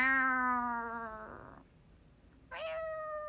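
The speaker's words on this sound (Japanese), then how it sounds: "ちょっと今のは可愛い、可愛い猫でした" A cat meows twice, the first call long and clear with strong harmonics, then a brief pause before a second, shorter meow; fairly close and alone, with no talk over it.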